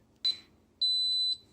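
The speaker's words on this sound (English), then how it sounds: "Yeah, it beeps a lot." An electric pressure cooker used for boiling chicken in broth gives electronic beeps: one short beep, then a longer sustained high tone after a pause, loud and close.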